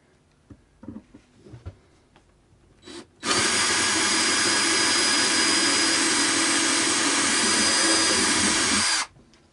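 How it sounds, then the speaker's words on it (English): A power drill bores straight through a Mountain F100 guitar bridge, starting with a few handling knocks and then a loud, steady whine that holds for about six seconds before cutting off abruptly. "So let's drill this through first."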